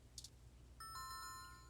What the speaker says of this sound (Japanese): マンションについていそうなインターホン。